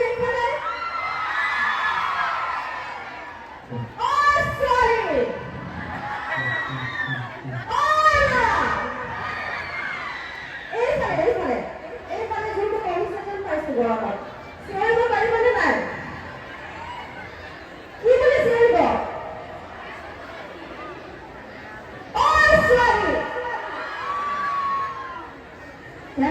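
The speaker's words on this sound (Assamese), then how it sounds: "এবাৰ চিঞৰি দিয়কচোন এইফালে" A large crowd of boys and girls shouts and cheers in loud repeated bursts at an outdoor Bihu stage show, the roars rising and falling over roughly half a minute between quieter stretches of chatter.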